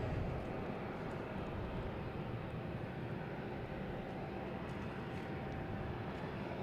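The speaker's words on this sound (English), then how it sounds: "next taking off, we have American Airlines heading to Chicago" An American Airlines Embraer E175 bound for Chicago takes off at Boston Logan Airport, its jet engines producing a broad, steady roar heard from a distance, unchanging and with no voices over it.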